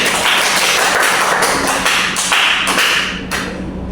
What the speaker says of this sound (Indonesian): Kita beri aplaus untuk Foni.